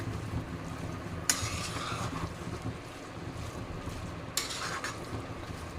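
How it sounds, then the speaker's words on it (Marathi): A spoon stirs carrot halwa mixed with cardamom powder and grated nutmeg, two soft scraping strokes against the pan over a low steady background rumble, with no talking. "इलायची पावडर आणि जायफळ खिसून झालं की आपण चांगलं त्याला मिक्स करून घेणार आहोत"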